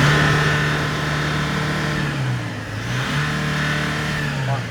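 The engine of a 2022 Hyundai Porter 2 truck with a manual gearbox and 227,000 km on it hums steadily, its pitch rising and dipping as it is revved, close and fairly loud.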